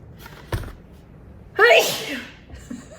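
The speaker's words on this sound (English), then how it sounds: "I'm gonna sneeze" A single loud sneeze bursts out after a quick intake of breath, close to the microphone.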